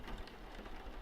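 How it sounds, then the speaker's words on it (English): Steady rain falls in the video game Labor of Love - My Wolf, a dense, even hiss of drops with a soft low rumble beneath, continuous and unbroken. "Oh, it's raining."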